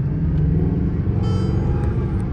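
A Mercedes-AMG GT R sports car drives up with a steady, loud engine rumble that holds throughout, close by and without any voices over it.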